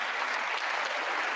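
Audience applause during a political speech, a steady wash of many hands clapping at moderate level throughout the brief moment, with no voices over it.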